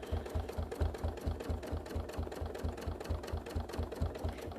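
A domestic sewing machine stitches fabric guided along a ruler, giving a fast, even mechanical chatter of closely spaced needle strokes. The sound is close and steady, with no voices.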